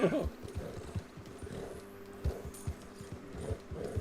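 Horse hooves clip-clopping at a riding pace in a cowboy-town video game, an irregular run of hoof thuds that stays fairly near, with faint background tones and no speech.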